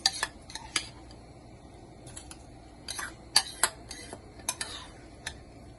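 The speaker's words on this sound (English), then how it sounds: "I'm gonna add in my bulgur rice." Washed bulgur rice goes into a pot with sharp clinks and scrapes of a metal spoon against cookware, arriving in scattered bursts over a quiet background without speech.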